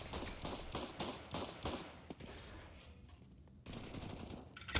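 Gunshots fired through a wall in a competitive shooter, a rapid run of sharp, evenly spaced bangs followed by a few scattered thuds and a louder burst near the end, heard alone without talk.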